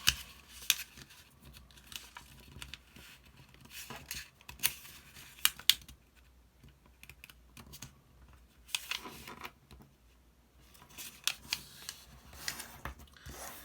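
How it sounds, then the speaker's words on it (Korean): Paper is folded in half for origami, producing soft close rustles, creases and crisp taps in irregular bursts with quiet gaps between. "잡고 한번 더 반으로 접어주세요."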